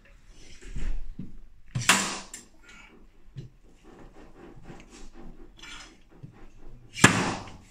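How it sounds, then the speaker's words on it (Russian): Hammer and punch tapping a dent on a Mitsubishi Pajero Sport during paintless cold-glue dent repair, a few sharp isolated knocks with quieter scrapes and handling noises between them in a quiet workshop. "И молоток с пробойником."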